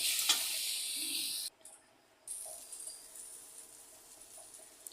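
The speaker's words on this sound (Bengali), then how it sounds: "আবার একটু নাড়াচাড়া দেবো আর একটু সাঁতলিয়ে নেব।" Green chillies sauté in a pan, a bright crackling sizzle with stirring that drops out briefly, then returns softer with occasional small pops.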